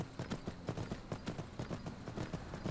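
Horse hooves clip-clopping in the video game Skyrim, a quick even trot of close, crisp hoof strikes repeating throughout.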